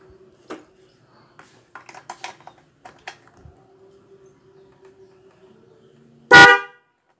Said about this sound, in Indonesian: Klakson kita menggunakan Hella.